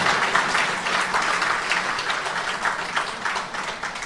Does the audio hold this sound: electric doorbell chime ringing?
no